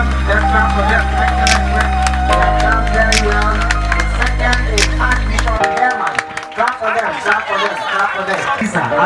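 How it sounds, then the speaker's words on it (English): An audience claps for spelling bee contestants at a Ghanaian library association event, producing a dense, sustained patter of applause over a loud low electrical hum. "Let's clap for them."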